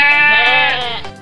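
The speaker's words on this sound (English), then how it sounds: "Goat. This is goat. Have you ever seen a goat before? And have you ever heard his sound before?" A goat bleats once, loud and close, in a single wavering cry of about a second that trails off, with no other sounds around it.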